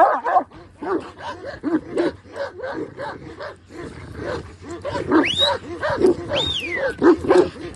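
Shepherd dogs bark on a mountain farm with Suffolk sheep, a steady run of close, loud barks and yips repeating through the scene, with a few higher whining calls near the end.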